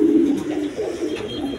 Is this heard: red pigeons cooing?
yes